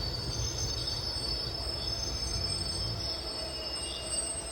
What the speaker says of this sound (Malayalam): ട്രെയിൻ ഇപ്പോൾ വാണിയമ്പലം റെയിൽവേ സ്റ്റേഷനിലെത്തി